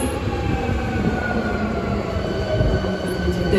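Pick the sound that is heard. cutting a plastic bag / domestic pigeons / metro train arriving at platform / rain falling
metro train arriving at platform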